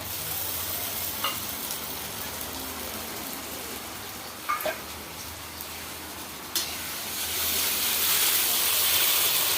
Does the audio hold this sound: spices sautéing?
yes